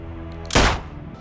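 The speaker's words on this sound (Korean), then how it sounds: "총소리에 놀란 손님들이 도망가고" Single sharp gunshot in a film scene set outside a club, a sudden loud crack with a short decaying tail over a quiet background.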